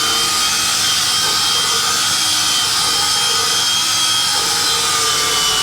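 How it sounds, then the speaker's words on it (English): An upholstery extractor scrubbing and extracting car seats, a constant loud whining suction roar that holds steady with no pauses. "painstaking process of scrubbing and extracting the seats"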